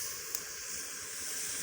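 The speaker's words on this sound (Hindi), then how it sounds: "मसाला जो है ना हमारा भुना जा रहा है।" Red chilli, turmeric and salt masala frying in a pan gives a steady bright sizzling hiss, close and even throughout, with no voices.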